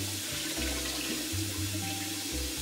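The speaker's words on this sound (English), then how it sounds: "The tank is all filled with water" Steady rushing of water filling a small fish tank indoors, a continuous pour with slight shifts in flow, no talking.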